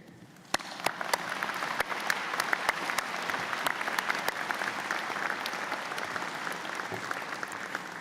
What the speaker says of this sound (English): May I ask you to please join me in a round of applause for the people who have helped get you here today.